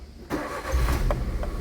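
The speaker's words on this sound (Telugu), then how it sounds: "కారు అయితే నేను స్టార్ట్ చేసి ఇంజిన్ చూపిస్తాను" A 2011 Maruti WagonR is started up close: a short quiet pause, then the starter cranks and the engine catches into a steady, rumbling idle with a few sharp mechanical clicks, no voices.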